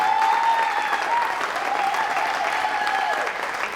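Loud, sustained applause from a crowd at a high school sports meetup, greeting the school athletics team as they come up, with some cheering mixed in and steady clapping throughout.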